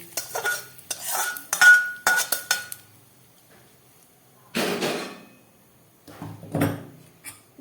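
Ginger, green chilli and asafoetida being mixed into sago paste, heard as rapid scraping and clinking of a spoon against a bowl in quick bursts, then two louder separate scrapes with quiet gaps between them.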